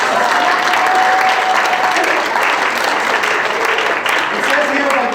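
A crowd at an end-of-season banquet gives a sustained, loud round of steady applause, with voices faintly mixed in beneath the clapping.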